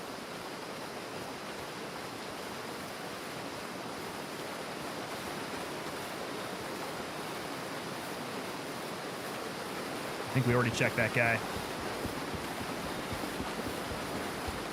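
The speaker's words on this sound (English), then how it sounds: "That water is extremely loud." Loud, steady rushing water in the military shooter Gray Zone Warfare, a constant broadband roar filling the scene, with a brief voice talking over it near the end.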